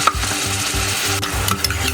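Onion, ginger and garlic paste frying in oil for pav bhaji, a close, steady sizzle with rhythmic stirring scrapes roughly every quarter second and a few soft clinks.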